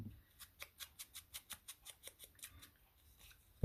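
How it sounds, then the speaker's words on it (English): Small scissors snipping paper while fussy cutting out a dragonfly shape, about a dozen crisp, evenly spaced snips in a quick steady rhythm, close and quiet, ending with a soft thump. "And then I fussy cut this dragonfly."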